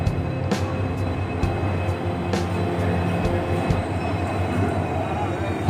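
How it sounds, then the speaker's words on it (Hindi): The UBL-SC Express, a 16-coach train, shunts at platform 2 on the Hubballi to Secunderabad route, giving a steady rolling rumble of wagons with repeated wheel clunks over rail joints, close and continuous, with someone talking over it. "हमारी ट्रेन का शंटिंग प्लेटफॉर्म नंबर 2 पे हो रहा है।"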